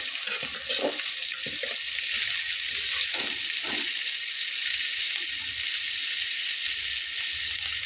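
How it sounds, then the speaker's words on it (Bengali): Mashed boiled potato and chickpeas stirred in a hot frying pan, a continuous sizzle with a few scraping spoon strokes early on, close and steady throughout. "তো এখন আমি এর ভেতরে দিয়ে নেব আলুটা, একটু নেড়ে দিয়ে নিই"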